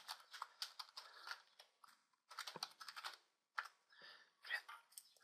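Quick bursts of typing on a computer keyboard entering numbers into an Excel 2013 spreadsheet, close and quiet, with rapid clustered key clicks broken by short pauses.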